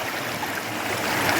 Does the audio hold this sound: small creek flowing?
yes